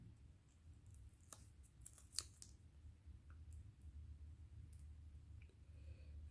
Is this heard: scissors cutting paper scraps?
yes